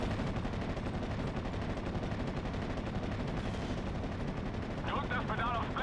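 Continuous rattling gunfire and artillery rumble fill a Steel Division: Normandy 44 battle, a dense, loud barrage with no pause, and a voice comes in near the end.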